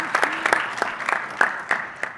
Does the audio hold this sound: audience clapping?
yes